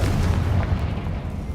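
A Confringo spell blast in Hogwarts Legacy lands as a heavy, close, booming burst with a dense low rumble that barely fades over a second and a half.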